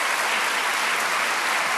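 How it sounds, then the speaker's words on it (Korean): A church congregation breaks into steady applause for a visiting elderly pastor at a late-night Holy Week worship service, a dense, even wash of clapping throughout. "우리 박수하겠습니다"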